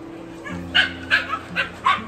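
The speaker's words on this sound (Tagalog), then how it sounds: "Ang daming aso." Several dogs bark in short sharp bursts, about five yips and barks over a couple of seconds, close and loud over a steady background hum.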